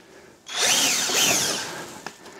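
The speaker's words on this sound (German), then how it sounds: "Hier wieder vorsichtig ein Loch bohren." A power drill bores a hole while fitting a Sluk guard to a Vespa GTS 300 scooter, a loud close whirring grind that rises and sustains for about two seconds, then stops with a brief click.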